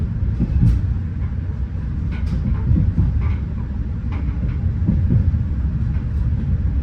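A Metra express commuter train runs by in Illinois with a continuous low rumble and rattle of rail cars, loud and close throughout, with no talk.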